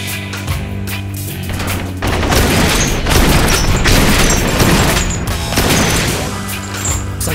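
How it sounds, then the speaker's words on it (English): Heavy booming cannon blasts roll continuously in the PC game Blue Estate, loud and dense, with a sustained rumble between shots. "Shooting a cannon."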